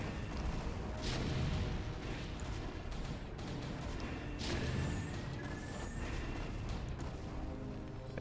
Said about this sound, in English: And tanks are sieged up, trying to take out more cannons.